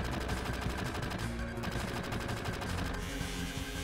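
Barret firing his gun arm in Final Fantasy VII, a loud continuous rapid-fire machine-gun burst with no break across the whole stretch.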